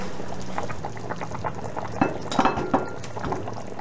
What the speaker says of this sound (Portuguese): deixei nosso caldo aí como 1 hora na pressão